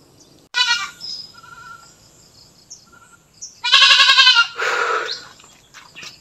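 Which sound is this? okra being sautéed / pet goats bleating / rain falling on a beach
pet goats bleating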